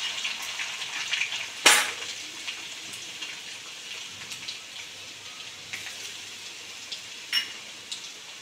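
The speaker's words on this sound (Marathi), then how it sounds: "आता कढईत याच तेलामध्ये आपण फोडणी करून घेऊयात।" Mustard seeds, cumin, curry leaves and crushed garlic sizzling in hot oil in a kadhai, a steady close frying hiss with a few sharp crackling pops standing out.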